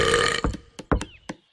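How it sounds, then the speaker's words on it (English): A female cartoon character lets out a long, loud burp, followed by a few shorter gulping and clicking mouth sounds. "That was my celebration burp."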